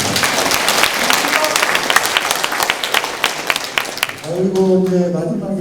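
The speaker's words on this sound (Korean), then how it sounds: "윤광묵 대의원님께 큰 박수 한번 부탁드리겠습니다." Hearty applause from delegates at an orientation gathering fills most of the stretch, sharp claps dense and close. It thins out near the end as a voice begins speaking.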